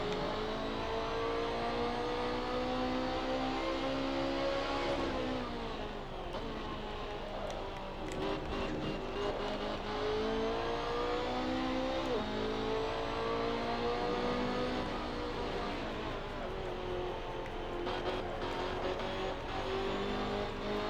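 Rally car engine in a sim racing video game, a sustained mid-pitched drone rising and falling with throttle, steady and close for the whole stretch with shifting revs and no speech over it.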